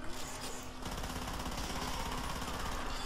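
Sustained automatic gunfire from the co-op zombie shooter Killing Floor, a steady fast rattle of shots held down continuously, moderately loud with no talking.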